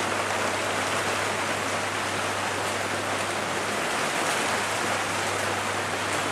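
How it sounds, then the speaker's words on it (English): Steady rain pours down outside during setup for a small home beer festival, an even, hissing patter that continues without pause and with a faint low hum beneath it. "And does it ever stop raining?"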